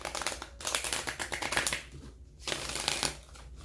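Tarot cards are shuffled up close in two quick bursts of papery riffling, separated by a short pause; no talking.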